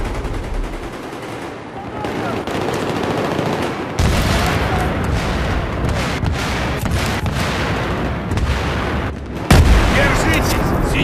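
C4 explosive detonating in Battlefield 3, with a dense din of gunfire and blasts, a sharp jump in loudness partway through, and a heavy, loud explosion near the end.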